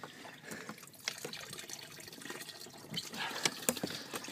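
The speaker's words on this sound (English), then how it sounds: "Oh, it's just water from the top." Water drips and trickles down from overhead, irregular splashes and drops of varying loudness, close by and fairly faint, with no talking.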